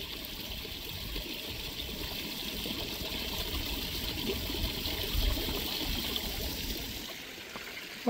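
A garden waterfall trickles steadily, a continuous close splash and burble of falling water that holds fairly even throughout before easing slightly near the end.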